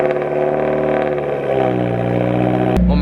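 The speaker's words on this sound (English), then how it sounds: "let's check out this cold start" A Subaru WRX with an Invidia J-pipe exhaust cold-starting, a loud steady engine drone with a rough idle that jumps into a louder surge right at the end.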